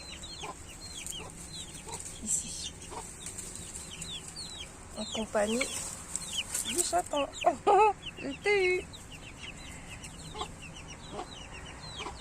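A mother hen clucks among her chicks, with soft repeated clucks and brief higher calls rising in a busier burst near the middle, fairly close, while a person talks intermittently over the farmyard sounds.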